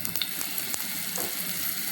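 Vegetables and chopped onions for fried rice crackle and sizzle in a hot pan, a continuous close frying hiss with a few sharp pops and light stirring.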